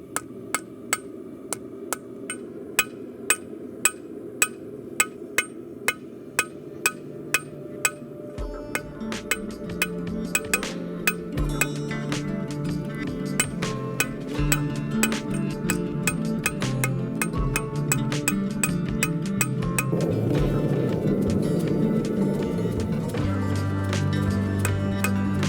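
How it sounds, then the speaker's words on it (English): A hand hammer strikes a forged Scottish dirk blade to even its thickness, with sharp metallic clinks at a slow, regular pace at first. Denser, faster blows and background clatter follow, close and clear. "So with some delicacy on a hand hammer, I'll just go and clean that up and make it all a uniform thickness, tapering out onto the edges."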